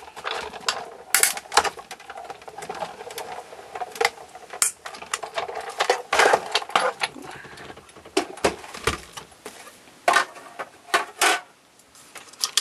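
A greeting card holding two paper labels is cranked through a manual die-cutting machine, producing a dense run of close, sharp clicks, ticks and rattles of uneven rhythm for about twelve seconds, with no voices.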